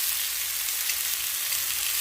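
Whole cardamom pods and cinnamon sticks fry with paneer cubes in hot oil, producing a close, steady, dense sizzle that stays loud and even throughout, with no voices.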